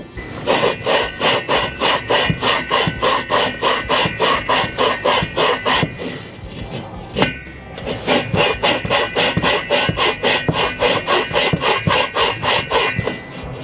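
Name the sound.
engine valve being lapped in with grinding compound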